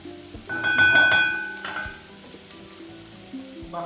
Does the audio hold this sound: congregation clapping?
no